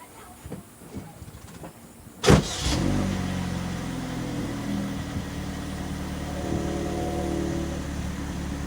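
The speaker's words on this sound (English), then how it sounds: "Okay, let me start the car now." A car engine cranks and fires with a sharp burst after some faint clicks, then settles into a steady, rumbling idle that continues to the end.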